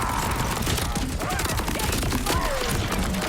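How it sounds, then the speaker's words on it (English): Airstrike explosions and gunfire in the Borderlands 4 video game form a loud, dense wash of rapid shots and blasts that continues without a break. "Airstrike."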